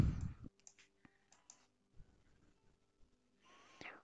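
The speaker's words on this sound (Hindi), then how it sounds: "इसे क्लिक किया, इसे भी क्लिक किया" Faint, sparse mouse clicks tap at irregular intervals while someone plays the building game Craftsman, against a quiet background with a brief burst of noise at the start and end.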